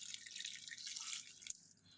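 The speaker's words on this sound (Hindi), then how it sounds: "इसमें मैं वाटर ऐड कर रही हूँ" Water trickles and splashes into a pot of chopped vegetables for a mixed veg masala, a close, steady pouring wash that tapers off near the end, with no talking.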